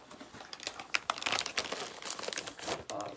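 Paper being snipped and crinkled while trimming excess strips from a handmade paper chain snake, a busy run of close, crisp rustles and small cuts with no talking.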